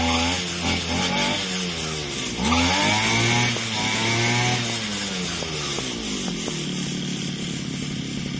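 Yamaha RX King two-stroke motorcycle engine revving loudly and close, with rising and falling throttle blips and a raspy buzzing tone that holds steady throughout.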